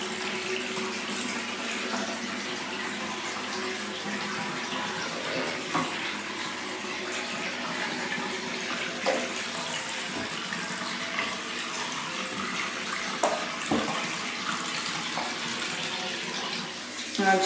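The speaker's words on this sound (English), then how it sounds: "Yep, so I'm just going to run the hot water." Hot water runs from a tap in a steady, continuous splashing stream, close and moderately loud, with a few faint knocks and clatters over it.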